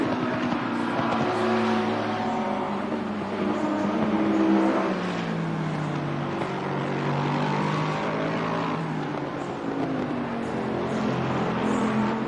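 Multiple race car engines roar in Assetto Corsa Competizione, a loud continuous layered drone with pitch rising and falling as cars accelerate and brake, steady throughout with no talk.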